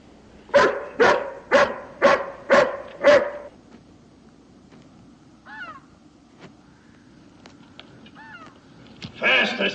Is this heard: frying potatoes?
no